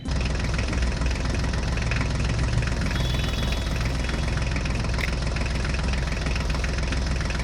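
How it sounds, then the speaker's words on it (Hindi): A Swaraj mini tractor engine runs at a steady, loud idle with a knocking, vibrating rumble that continues unbroken throughout, with no one speaking. "देखो बच्चों स्वराज ट्रैक्टर को हमने रेडी कर दिया"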